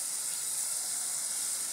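Spices sizzle steadily in hot oil for a Punjabi village-style tadka before soybean pakoras go in, a dense, even hiss held close and loud throughout with no voices.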